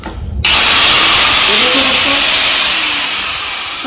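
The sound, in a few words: 4-inch angle grinder with iron-cutting blade cutting metal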